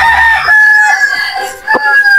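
A rooster crows loudly and close by, one long cock-a-doodle-doo with a rising then held call and a brief break near the end, with no other sound around it.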